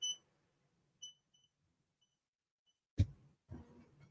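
An embroidery machine gives a few short, high electronic beeps spaced about a second apart while it is being threaded, followed by a couple of soft clunks of handling nearby.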